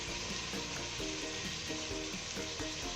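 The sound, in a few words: garlic, ginger and onion frying in oil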